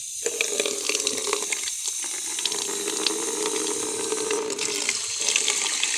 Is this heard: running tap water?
yes